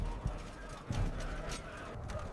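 Horses' hooves clip-clop at an ancient Persian army camp on a shore, a steady uneven patter of hoofbeats with a few heavier thuds, moderately close amid a busy, noisy background.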